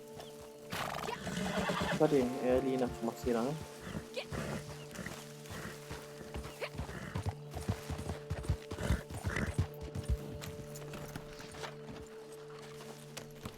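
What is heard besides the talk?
horse neighing and hooves, video game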